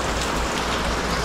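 Heavy rain pours steadily in a dense, loud, unbroken hiss that stays even throughout the short stretch, with no voices.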